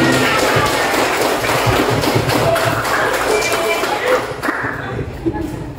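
A class of students claps in a dense, continuous wash of applause that fades slightly toward the end, with children's voices mixed in.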